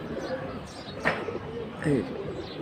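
Pigeons coo at a pigeon market selling high-flying Giribaz, silver and gorra pigeons, a couple of soft cooing calls rising over a steady crowd murmur, with people talking nearby.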